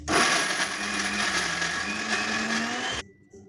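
A mixer grinder grinds masala at full speed, a loud continuous whirring roar with a wavering motor pitch that cuts off abruptly after about three seconds, leaving near silence.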